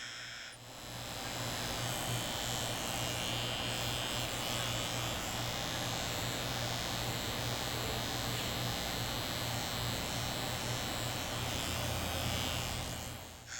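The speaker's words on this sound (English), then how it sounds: "this clipper cuts a little shorter and its smaller size makes it easier to handle around the ears" A small electric hair clipper hums steadily while trimming around the ears during a comb-back taper haircut, a continuous close buzz that lasts throughout with no talking.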